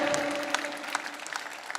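Audience applause at a Hindi patriotic poetry recital, a dense burst of clapping from the crowd with scattered sharp claps, steady then slightly tapering, with a faint tonal hum underneath.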